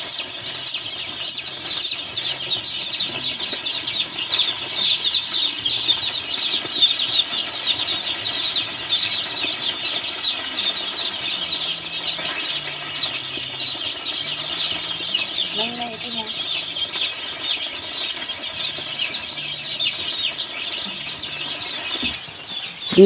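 Gamecock chicks feed on a farm, with soft repeated peeping and chirping, occasional wing flaps and rustling close by, continuing steadily throughout.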